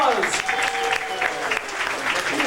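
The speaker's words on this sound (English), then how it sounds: "Give me a round of applause." Applause from a seated tram tour audience at a studio backlot effects show, a steady clapping wash lasting a couple of seconds with a host's voice partly over it.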